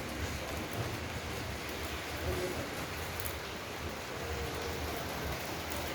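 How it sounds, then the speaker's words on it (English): Rain falling outdoors in Chandigarh, India, a steady soft hiss with faint low rumble running evenly throughout, fairly distant and without any voices. "It's raining everywhere."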